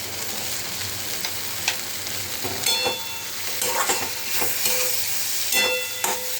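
Chana and matar dal are stirred in a sizzling pan, a steady frying hiss broken by several scraping strokes of the utensil close by, with no voices.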